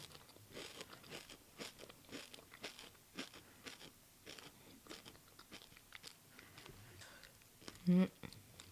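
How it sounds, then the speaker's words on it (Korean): Someone bites into a small chewy Dubai chocolate cookie filled with crispy pistachio filling, giving soft close-up crunches and sticky chewing, with quiet whispering throughout. "작은 사이즈의 두바이 쿠키, 쫀득 쿠키를 먹어보겠습니다."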